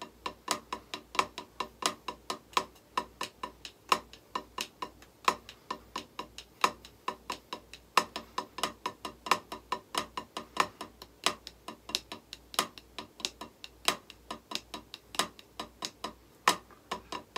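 Drumsticks play flam accents on a practice pad, both hands together, at an unhurried pace: steady, evenly spaced dry taps in a repeating loud-soft pattern, close and fairly quiet, with no talking.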